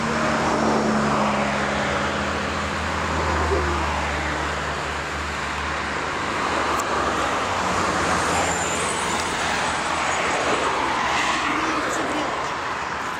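A car travels a road near Essentuki on the way to thermal springs, a steady rushing hum of tyres and engine from inside the vehicle, with someone talking over it.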